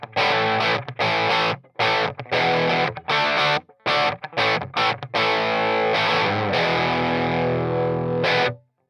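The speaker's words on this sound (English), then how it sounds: "that's a pretty smooth rock tone right there" An electric guitar plays a smooth, distorted rock tone through a Quilter Toneblock 202 amp, with choppy strummed chords and short gaps, then a long sustained chord that rings out and stops.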